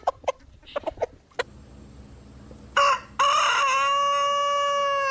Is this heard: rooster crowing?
yes